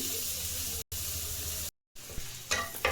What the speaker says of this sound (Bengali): বন্ধুরা দেখুন কত সুন্দর লাল লাল করে পুরো ভেজে নিয়েছি পেঁয়াজটা